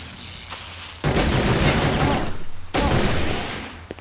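Two heavy, booming gunshot bursts with long, rumbling tails roll out close and loud from a handgun in the Blade Runner game, separated by a brief drop in the noise.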